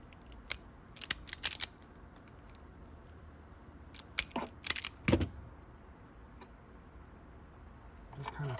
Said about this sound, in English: We're going to cut the sheathing off